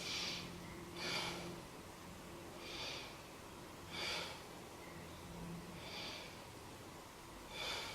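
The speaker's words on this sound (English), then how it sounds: "Let's take 3 breaths." Deep yoga breaths during a beginner hip-release session: six slow, evenly spaced breathy inhales and exhales, close and airy, alone without talk.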